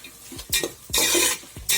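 A spoon scrapes and stirs half-boiled prawns in a pot for prawn biryani, several rhythmic stirring strokes with light sizzling, close and alone.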